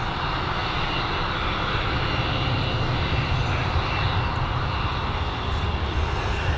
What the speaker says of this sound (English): Oh, here's the Emirates.